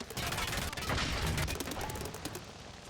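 Rampart's minigun in an Apex Legends-style shooter sends out a continuous rapid stream of gunfire, dense and rattling, with faint crackles and some quieter voice under it.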